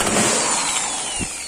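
A power drill bores a hole in a stove oven, a short close whine with a steady high grinding tone and a small thump near the end.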